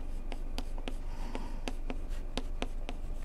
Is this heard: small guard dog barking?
no